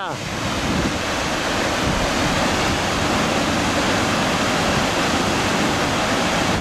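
Constant dense rush of the large Ohun waterfall in Mongolia, heard close and loud as an unbroken wash of falling water, with no voices.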